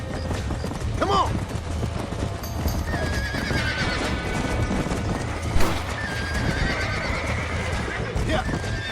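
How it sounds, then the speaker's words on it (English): A horse whinnies loudly and hooves clip-clop in a Red Dead Redemption (2010, PS3) ranch scene, with game voices talking and dense background sound continuing throughout. "You in the business of killing horses now?"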